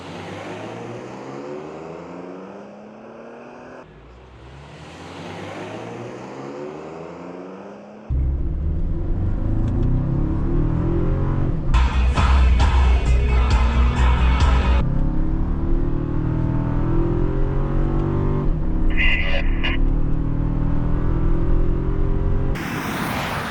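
Third-generation and fourth-generation Toyota Tacoma pickups in a drag race, engines revving up, then a loud steady acceleration roar that holds for many seconds before easing, heard close with wind noise.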